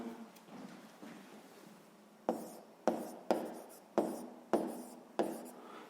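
Pen strokes on paper during a sixth-grade maths exercise, six short scratchy bursts in a loose rhythm after a quieter stretch, close and clear with no talk over them.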